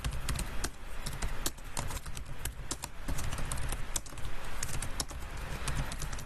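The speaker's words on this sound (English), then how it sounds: "You get to see my fast typing skills." Fast typing on a computer keyboard, a rapid steady stream of close clicking keystrokes with no talk.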